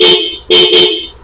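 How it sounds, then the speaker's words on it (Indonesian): Two loud, close blasts from a Denso car horn, a short toot then a longer honk after a brief gap, both with a steady, bright tone and nothing else around them. "Dan ini klakson Denso"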